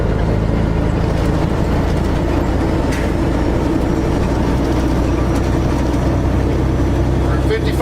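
An American truck with an 18-speed gearbox downshifts to 17th gear at about 30 mph, its engine producing a steady, loud low rumble throughout, with someone talking over it.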